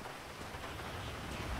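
Heavy rain pours in the video game GTA V, a dense, steady wash of noise with no breaks and faint low rumbling underneath.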